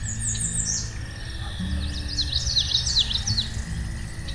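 A small brown sparrow chirps in quick, high twittering bursts over a steady low rumble of background noise, with no one speaking.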